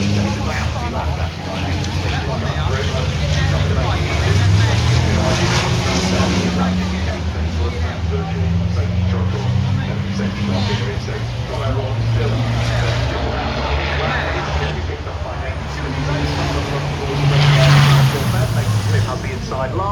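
Racing trucks at a British truck racing meeting roar steadily down the straight, a dense continuous engine drone that swells near the end while a commentator talks excitedly over it.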